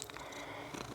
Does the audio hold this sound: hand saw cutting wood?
no